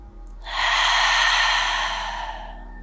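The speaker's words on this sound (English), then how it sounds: "Let out some smooth exhales." A long, smooth breathy exhale during a yoga breathing practice, steady and fairly loud, starting after a brief quiet pause and trailing off slowly with no talking.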